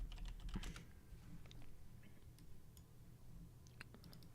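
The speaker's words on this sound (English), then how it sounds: "So let me type in all the trades that I made." Quiet, close typing on a computer keyboard, a steady patter of individual key clicks with occasional louder taps, no voices.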